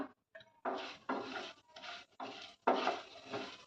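Chana dal, cumin and coriander seeds dry-roast in a pan for a spinach karam, with rhythmic bursts of stirring and scraping as the seeds rattle against the metal, close and clear with no talk.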